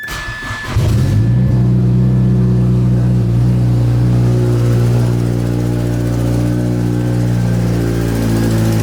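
A twin-turbo Mazdaspeed 6 with an external wastegate starts up and settles into a loud, steady, rumbling idle with strong low harmonics, heard up close and alone.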